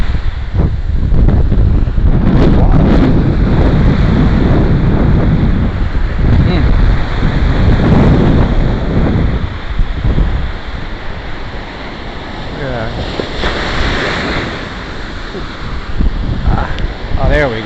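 Ocean surf rolls onto Fort Lauderdale beach under heavy wind buffeting the microphone, making a loud, continuous wash that swells and eases over the seconds.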